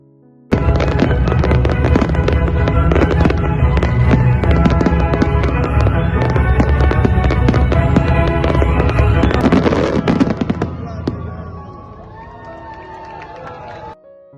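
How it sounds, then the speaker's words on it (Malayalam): Loud, dense fireworks display at an Eid al-Adha celebration in Qatar, with continuous rapid bangs and crackles lasting about nine seconds before easing into scattered pops and a faint crowd murmur. "അത് കഴിഞ്ഞ് കറക്റ്റ് 8:30 ആയപ്പോൾ ഫയർ വർക്ക്സ് സ്റ്റാർട്ട് ചെയ്തിട്ടുണ്ട്."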